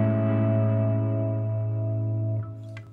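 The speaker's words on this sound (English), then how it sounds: "we get a major seven chord, which sounds like this." A major seven chord rings out on guitar, a single sustained strum with clear harmonic tone that slowly decays, close and fairly loud, ending with a faint touch of handling noise.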